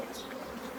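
A honey bee buzzes close by in a short, faint burst of droning wingbeats.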